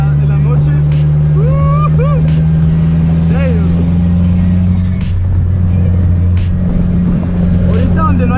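Dodge SRT-4 cruising on streets at night, its engine holding a loud steady low drone throughout, with a voice speaking over it and brief rises and dips in the engine note.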